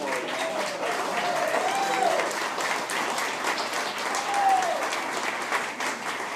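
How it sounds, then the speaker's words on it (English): A crowd applauds health care workers with sustained, dense clapping at an even level, a faint voice briefly audible within it. "let's say thank you to them and give them a round of applause"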